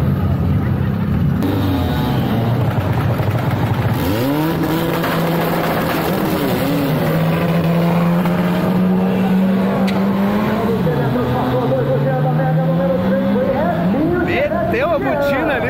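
A Chevrolet Marajó drag car roars through a hard launch, its engine pitch climbing and wavering loudly and continuously, while someone talks over it throughout.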